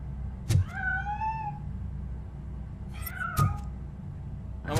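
A cat in the video game Robocop Rogue City lets out two drawn-out rising meows, clear and fairly close, set apart by heavy metallic footstep thuds against a low ambient hum.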